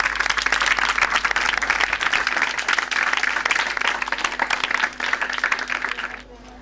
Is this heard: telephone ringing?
no